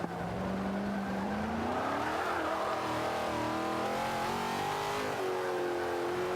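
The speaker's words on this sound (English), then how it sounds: "Still accelerates in fourth gear pretty well." Chevrolet Corvette Z06 in the Forza 5 racing game accelerating hard in fourth gear, a loud, steady engine roar whose pitch climbs continuously with faint tire noise, no voices.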